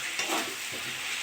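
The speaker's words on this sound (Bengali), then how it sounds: "আমি এবার আলুগুলো দিয়ে দেবো। আলুটা দিয়ে ভালো করে কষে নেবো।" Potato pieces stirred and sizzling in hot spiced oil in a pan, a steady frying hiss with soft scraping stir strokes over about a second.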